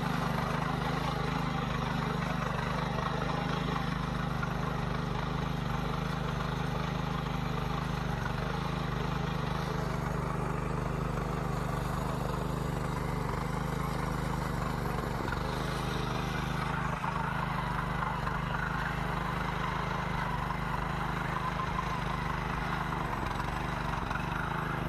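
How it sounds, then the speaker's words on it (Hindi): A tractor engine runs steadily in a farm field, a continuous mid-pitched droning rumble that holds throughout without pauses, fairly close and alone with no talking over it. "फाइनली ट्रैक्टर भी पहुंच गया है खेत में।"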